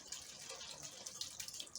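Water poured into a pot of Uzbek Navoi-style plov during cooking, a steady splashing, trickling pour close by with no talk.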